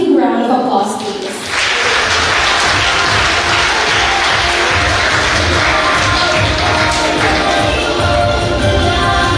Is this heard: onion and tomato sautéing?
no